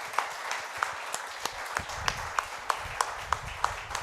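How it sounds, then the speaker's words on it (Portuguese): Church congregation applauding during a Portuguese-language sermon service, a modest crowd clapping with a few distinct sharp claps standing out in a steady rhythm, somewhat distant and alone without speech. "aplauda bem forte ao Senhor"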